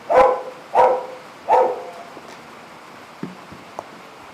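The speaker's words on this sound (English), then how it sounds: "Have you heard her bark?" A dog barks three times in a steady rhythm, close and loud, followed by quieter shuffling noises.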